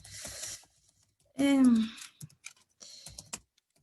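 Computer keyboard typing comes in short bursts of clicks between pauses, close and fairly quiet, with a person speaking briefly in the middle.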